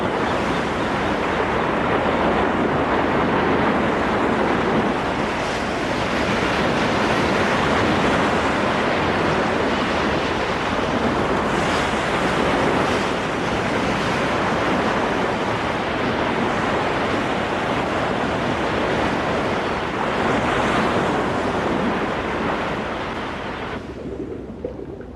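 Heavy ocean surf pounds continuously in a storm, a dense roaring wash of breaking waves with gusty wind noise, loud and unbroken throughout.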